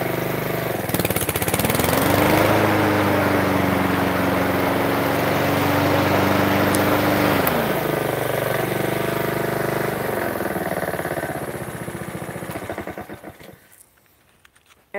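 A lawn mower engine runs steady and loud for about eleven seconds with a brief rising pitch early on, then shuts off and fades to quiet.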